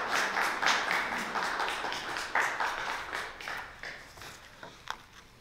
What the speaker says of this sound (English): applause for the poet, applause for the poem